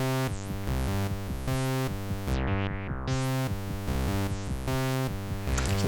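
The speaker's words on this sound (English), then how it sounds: "that's the filter control being wiggled backwards and forwards over time" A rich buzzy synth chord pattern repeats while automated filter cutoff sweeps its brightness open and closed, the tone swelling bright then dulling back again over several seconds.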